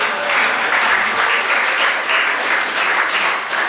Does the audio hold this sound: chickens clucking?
no